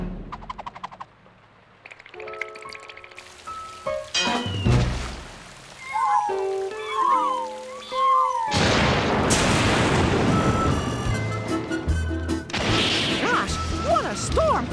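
Cartoon cats meow in a rainstorm amid crashes, whacks and booms, with several rising and falling meows in the middle of a busy, loud soundtrack.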